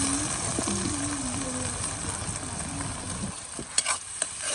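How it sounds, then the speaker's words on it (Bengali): Onion paste fries with a hilsa fish head in a pan, a dense, steady sizzle that quiets near the end, followed by a couple of brief utensil knocks. "পেঁয়াজ বাটা দিয়ে মাছটা কষাবো ভালো করে"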